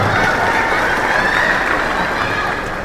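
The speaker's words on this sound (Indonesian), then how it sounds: "Tepuk tangan teman-teman semua." Audience applause at a university public lecture, a dense, steady wash of clapping from a large crowd that holds loud and even for about three seconds before easing slightly at the end.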